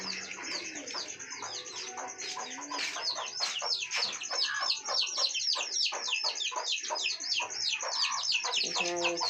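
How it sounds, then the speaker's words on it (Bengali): Chickens in a backyard coop cluck and chatter continuously, close and busy, with a few bird calls mixed in from pigeons and ducks kept nearby. "এখানে রয়েছে সব মুরগিগুলো"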